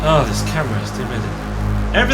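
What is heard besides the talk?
No everyday noise stands out behind the speech.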